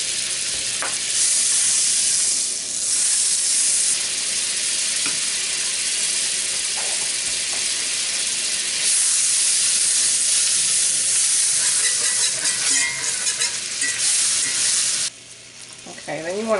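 Butter sizzles loudly in a pan just emptied of pork chops, a dense continuous frying hiss with occasional stirring scrapes, dropping off abruptly near the end.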